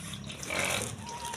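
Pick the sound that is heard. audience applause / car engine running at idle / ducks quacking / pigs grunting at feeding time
pigs grunting at feeding time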